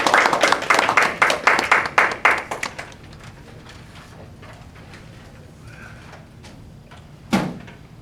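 Audience applause welcoming a speaker to an impromptu speech, a dense burst of clapping for about two seconds that tapers off into quiet room tone, with a single sharp knock near the end.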